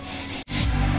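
Coarse 40 grit sandpaper rasps over polyester body filler on a door, a short harsh scraping stroke broken by a brief pause, close and loud.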